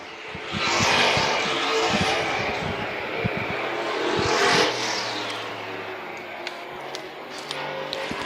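Vintage race cars on an oval track: engines roar past in two loud sweeping passes that rise and fade, followed by quieter distant motor noise and scattered taps, with a voice faintly present.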